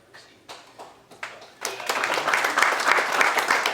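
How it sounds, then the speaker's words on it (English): Conference audience at the Innovation Explosion 2015 event: a few scattered claps at first, then full applause swells and continues steadily, moderately loud, for about two seconds. "all of you deserve the rounds of applause"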